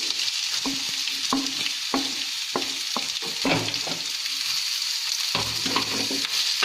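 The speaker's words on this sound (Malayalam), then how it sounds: "നമുക്ക് സവാള ഇട്ട് വഴറ്റാം." Onions sautéing in a hot pan for a soya bean fry, with a steady close sizzle broken by repeated scraping stirs of a spoon against the pan, and no voices.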